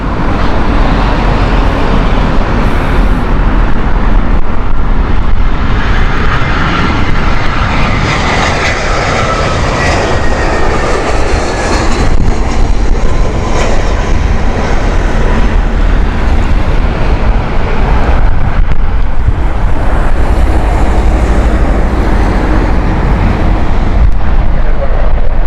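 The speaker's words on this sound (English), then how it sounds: "shuttle service 7 Zulu with Airbus A319" An Airbus A319 on the Heathrow shuttle service, an older airframe about 22 years old, roars loudly and steadily at the airport, a broad continuous engine rumble filling the whole stretch with slight swells in intensity.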